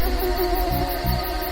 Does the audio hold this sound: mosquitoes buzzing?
yes